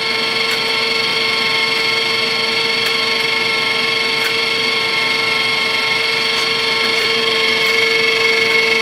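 The wire feed motor of a cheap $100 welder spools wire with a steady, close whirring hum and a tonal whine, plus faint periodic ticks, running continuously without talk.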